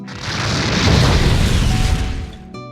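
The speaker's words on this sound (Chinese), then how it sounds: "随后，更是用烟贝释放了大量瓦斯，并放出了火焰弹，让路飞在爆炸中倒下了。" A loud, roaring explosion blast fills the air, rumbling steadily for a couple of seconds before cutting off abruptly: released gas ignited by a fire shot in a One Piece anime fight scene.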